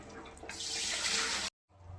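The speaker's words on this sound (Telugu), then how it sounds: "చూడండి వాటర్ అయితే పడుతున్నాను." Water pouring from a tap into a container, a steady gushing hiss that swells, runs for about a second, then cuts off abruptly into quiet.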